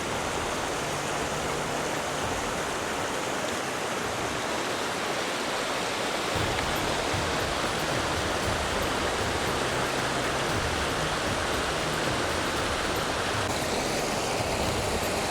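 A stream of ice-cold glacier water rushes in a steady, dense, broadband roar that stays constant throughout, with no voices.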